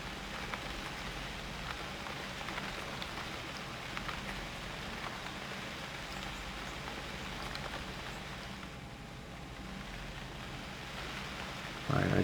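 Steady rain falls across the wilderness in UnReal World during an elk hunt, a continuous soft hiss of drops hitting the ground that runs unbroken and fairly quiet throughout.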